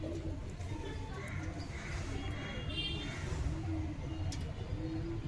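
A Giribaz pigeon is let go and coos softly amid a dense, noisy background, with a light flutter of wings; a voice speaks nearby.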